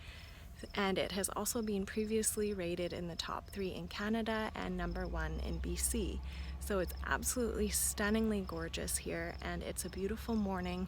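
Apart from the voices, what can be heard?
crickets chirping outdoors in the morning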